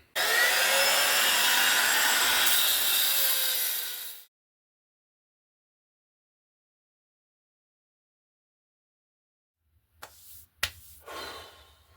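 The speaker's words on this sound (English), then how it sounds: "while I sand this bad boy down" A car chassis part for a Fiat Cinquecento track car is sanded indoors before painting, with about four seconds of loud, continuous abrasive rasping up close, then silence, then a few brief scuffs and knocks.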